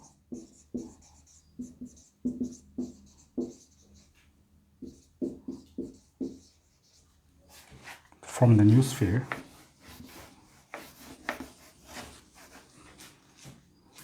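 Pen writing out a Class 9 maths solution on sphere volumes, with short scratchy strokes in bursts close up, then a louder rubbing stretch; a voice talks at intervals.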